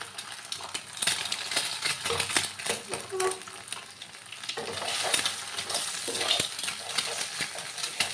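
Egg being scrambled in a hot frying pan, a steady sizzle of frying with repeated scraping and stirring clinks of a utensil against the pan, close and fairly loud throughout.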